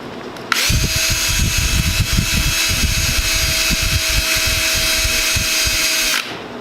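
A metal file bevels the edge of a steel rod, giving a steady, loud motor-like whine over rough, rapid rasping that runs for about six seconds and then stops abruptly.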